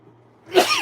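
One quick, sharp sneeze bursts out near the end after a brief quiet hum, close and fairly loud.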